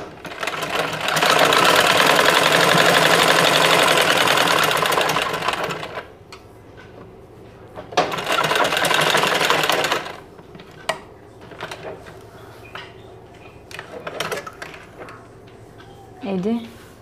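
A sewing machine stitches round and round on a homemade cloth doormat, running in two loud rattling bursts separated by pauses, with someone talking and small handling knocks between runs.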